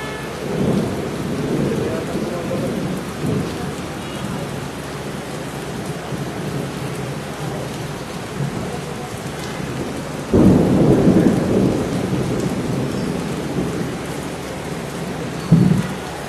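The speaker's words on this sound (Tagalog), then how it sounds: "Lakas pa ng kulog." Heavy rain pours steadily while thunder rumbles, with a sharp, louder crack of thunder breaking in partway through.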